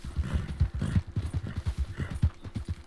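Horse hooves clip-clop in quick, uneven rhythm as a horse travels through mountain terrain in Red Dead Online, close and clear with no talk over them.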